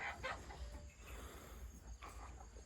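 Farm chickens out in the evening, pecking and eating, give soft, scattered clucks that are faint and close, over a low, steady background hum.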